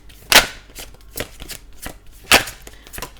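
Sharp knocking and tapping noises, irregular, with two louder thumps standing out among lighter clicks, close by and without speech.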